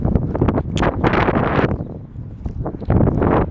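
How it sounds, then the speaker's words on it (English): Gusty wind buffets the microphone outdoors at a commercial community center, producing loud, uneven rumbling bursts that rise and fall with no talking. "hope you can hear me okay because the wind is blowing"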